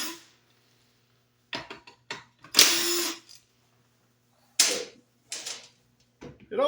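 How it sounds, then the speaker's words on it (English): Power tool removing pump bolts from a Ford C6 transmission, several short whirring bursts with quiet gaps between them, close and moderately loud. "And right now, I'm taking the pump bolts out."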